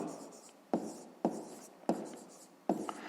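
Pen or marker strokes on paper while writing out a 5th-grade math solution, in four distinct bursts with quieter scratching between them, close and moderately loud, with no talking.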